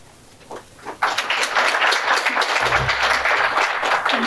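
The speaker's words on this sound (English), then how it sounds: "Lots of clapping." Audience applause at an awards ceremony breaks out suddenly after a couple of faint claps and holds steady as a dense, close round of many hands clapping, with no one speaking over it.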